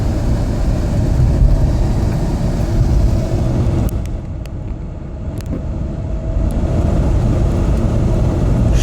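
A 2001 Jeep Grand Cherokee with 79k original miles driving along, heard from inside: a loud, steady engine and road drone whose pitch eases and shifts mid-drive as gears change, with a few faint clicks and no talking.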